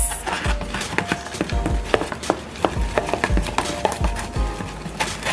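Clear slime ingredients are stirred together in a container, producing a run of irregular knocking and scraping clicks close to the microphone, with no voices.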